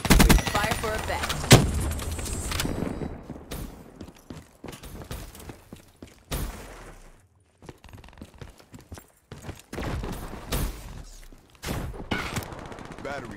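Artillery and gunfire in the video game Black Ops 3, with a heavy burst of rapid shots followed by scattered booms and clattering impacts, loud and dense at first, then sparser, with brief voice bits mixed in.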